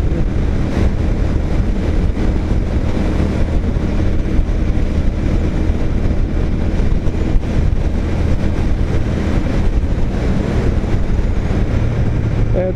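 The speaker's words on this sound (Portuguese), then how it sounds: "Chamar um pouquinho de motor e engatar a quinta." Car engine drones steadily under heavy wind and road roar while driving, a loud, constant low rumble with no clear break for a gear change, and no talking.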